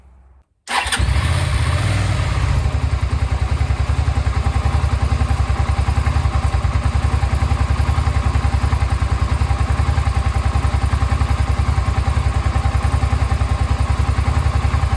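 A Suzuki SV650 motorcycle that has sat unused for six years cranks and fires within the first second, then runs loud and steady close by with a throbbing, even idle.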